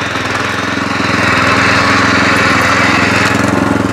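A Loncin LC-1200 walk-behind tractor engine chugs loudly and steadily up close, its rapid pulsing putter continuous throughout, with no voices.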